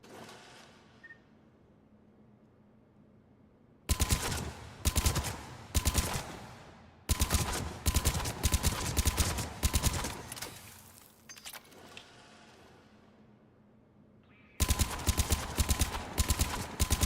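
Gunfire at the shooting range in Mass Effect 3 Legendary Edition: loud bursts of rapid automatic fire in three long volleys, broken by quiet gaps with fading echo, close and dense.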